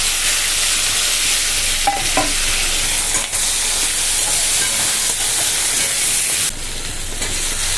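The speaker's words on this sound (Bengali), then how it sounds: "এই তেলের মধ্যেই পেঁয়াজ টমেটো কাঁচা লঙ্কা একসঙ্গে দিয়ে দেবো" Cumin, onion, tomato and green chili tipped together into hot oil, giving a loud, dense, continuous sizzle up close, with a few brief clinks of the utensil against the pan and no speech.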